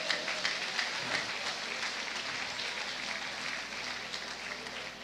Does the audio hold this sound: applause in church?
yes